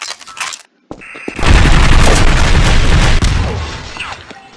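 A rocket launcher explosion in Garry's Mod Half-Life Resurgence lands as a sudden loud boom after a brief gap, followed by a rumbling, crackling blast tail that slowly fades.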